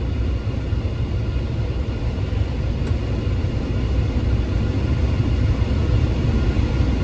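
A combine harvester header running: a steady, loud, broadband mechanical rumble and whir that holds unchanged from start to finish with no voices.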